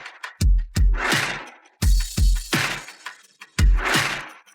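Rock struck open to reveal jade, a series of sharp heavy cracks and breaking impacts in two or three quick bursts, loud and close with brief silences between.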